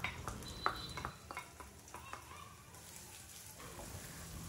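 Mustard seeds, dried red chilies, chopped garlic, ginger and green chilies fry in hot oil in a pan, giving a steady soft sizzle broken by several sharp spoon clicks and scrapes from stirring.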